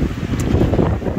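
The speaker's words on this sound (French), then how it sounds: "Putain ce vent." Strong gusts buffet the microphone outdoors while shock absorber mounts are being worked on, a loud continuous rumbling roar with no pauses and no voices.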